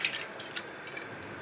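Lentils are washed in water in a home kitchen, giving a brief soft sloshing and trickling of water with faint drips, quiet and close, no voices.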